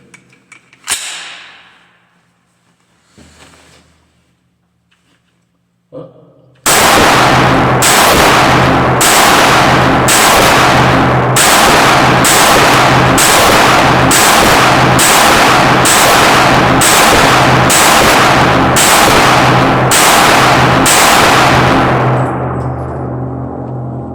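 A Smith & Wesson SD9VE pistol is fired at a target in a long run of loud, evenly spaced shots, about fifteen sharp cracks. Faint handling noises come before the shots, and the last shot rings out as a fading echo.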